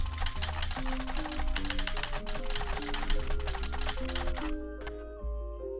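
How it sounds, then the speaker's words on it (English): Rapid keyboard clicks from typing in the video game The Roottrees Are Dead, a steady run of taps over game music that drops out near the end. "I like the typing sounds."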